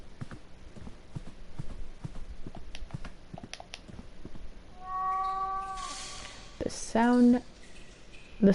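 A black cat meows in the horror adventure game The Last Door, several drawn-out meows near the end over soft ambient game sounds and scattered footsteps.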